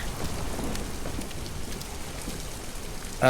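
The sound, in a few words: rain falling in the video game Detroit: Become Human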